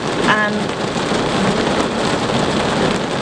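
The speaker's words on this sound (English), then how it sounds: "As you can see, it is pouring rain." Heavy rain pours down over a town in Kingstown, a steady, dense hiss that fills the whole moment, with a brief voice starting to speak near the beginning.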